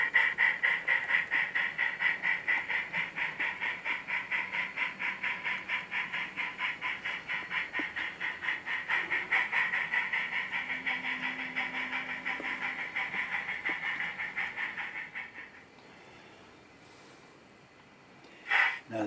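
A train locomotive pulls covered hopper cars at a grain silo, its engine chugging in a steady pulsing rhythm with hissing, continuous and moderately near, then dropping away near the end before a brief clunk.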